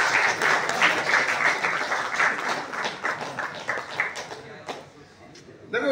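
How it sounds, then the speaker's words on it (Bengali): A crowd applauds at a cricket prize distribution ceremony with dense, steady clapping that thins into a few scattered claps near the end, and a voice is heard under it. "হাততালি দাও।"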